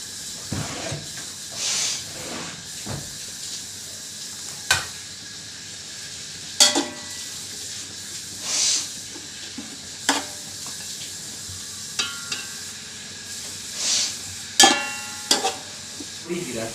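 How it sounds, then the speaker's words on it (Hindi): Onions frying in a pot for matar pulao give a continuous close sizzle and hiss, broken by repeated sharp scrapes and stirring clatters every second or two. "इसके बाद हम इसमें प्याज डालेंगे। प्याज को अच्छे से ब्राउन करेंगे।"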